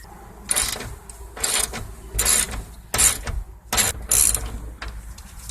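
A ratchet wrench turned on a 5/8 deep well socket clicks in repeated short bursts while loosening pulleys on a 2007 John Deere LA110 lawn mower, close and fairly quiet, with pauses between strokes.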